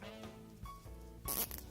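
Two plastic zip ties hooked together and zipped tight, a short ratcheting rasp that swells into a louder burst of zipping near the end, close by and with no voices.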